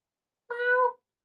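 A cat gives a single loud, close meow lasting about half a second, with near silence on either side.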